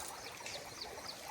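A large river flowing past: a soft, even wash of running water that trickles steadily with no distinct breaks.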